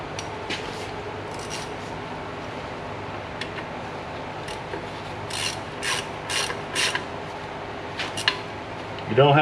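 Bolts being snugged down on the drum brake assembly of a 1960 Buick, a ratchet clicking in repeated short bursts against a steady low background hum, with a louder metallic clack at the very end.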